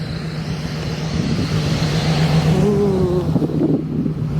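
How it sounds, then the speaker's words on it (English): A car driving past on a street near a park band shell, a steady engine and tyre rumble with a brief rising whine as it passes, wind noise over the microphone and no talking. "nice car coming up"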